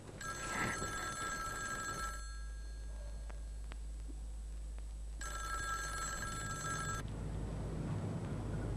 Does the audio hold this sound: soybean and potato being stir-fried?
no